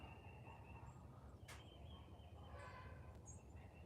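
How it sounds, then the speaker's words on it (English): Agitated farmyard chickens squawk and cluck in short, faint bursts over a low steady shop hum, with one sharp high cry in the middle, out in the countryside. "Dogs aggravating my chickens."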